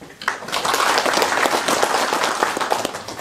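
An audience at the 16th Nogeun-ri Peace Prize ceremony applauds to welcome the Yeongdong County Council chair to the podium, steady dense clapping filling the whole stretch with no talk over it.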